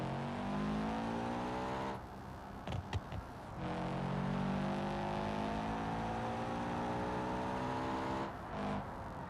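The turbocharged engine of a car in a racing video game revs hard and whines steadily. Its pitch climbs through long gears, with a couple of brief drops where it shifts or lifts off, and no voice is heard.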